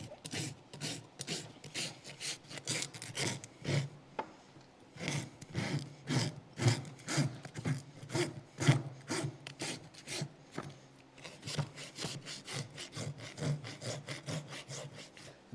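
Rhythmic rasping as a rasp files a young horse's hoof, with steady back-and-forth scraping strokes close up, a brief pause, then the strokes resume.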